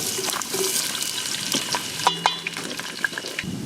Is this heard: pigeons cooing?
no